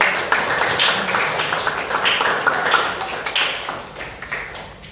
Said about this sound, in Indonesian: silakan beri tepuk tangan terlebih dahulu